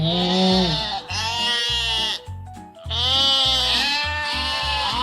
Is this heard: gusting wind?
no